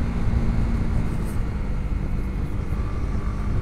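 Honda CB150X motorcycle ridden on mountain roads, a steady broadband engine and wind roar held at an even loud level throughout with no clear gear changes or breaks.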